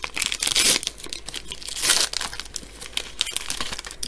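Foil wrapper of a 2019 Donruss baseball card fat pack crinkling and tearing open up close, in a few loud bursts of crackle between softer rustling.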